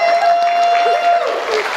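Brief burst of church audience applause for a young volunteer during a sermon, a loud, dense patter of clapping with a sustained tone and a voice briefly heard alongside.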